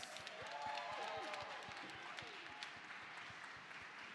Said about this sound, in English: How about a warm round of applause for Ms.